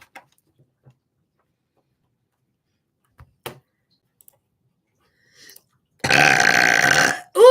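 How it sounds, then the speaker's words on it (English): A single loud, close burp lasting about a second, preceded by near silence with a few faint clicks and ticks and followed by a brief noise. "I burp."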